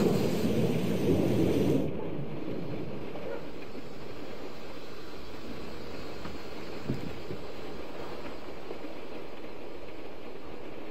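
A thunderstorm in the video game Syberia: The World Before, with a loud rumble of thunder that quickly gives way to steady rain, which continues as a constant wash of sound.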